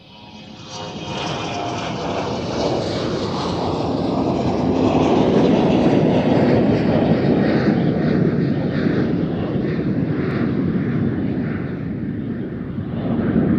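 German Airways airliner taking off from Amsterdam Schiphol for Aalborg, a loud jet roar building from a distance, holding steady and broad, then slowly fading.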